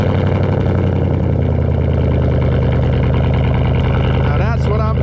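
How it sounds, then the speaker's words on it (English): A C5 Corvette's loud, deep engine idles steadily through an aftermarket exhaust with a rumbling, lopey burble, close up, and a voice speaks briefly near the end. "Check this idle out."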